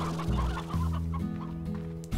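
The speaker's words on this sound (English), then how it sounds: "We could also feed them hen hens." Hens clucking in the farming game Slime Rancher, a few short stacked clucks in a steady run, close and fairly loud with no talk over them.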